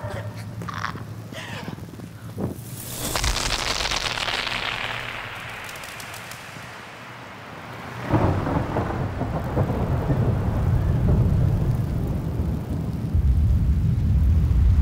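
A thunderstorm with crackling thunder peals and rumbles, followed by steady heavy rain and a loud, close rolling crash near the end.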